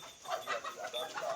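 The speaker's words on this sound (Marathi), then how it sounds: "हे बघा कोंबड्या पण सोडलेल्या आहेत." Hens let loose to roam on a goat farm cluck in short, repeated bursts at close to mid range, a soft continuous chatter with no speech.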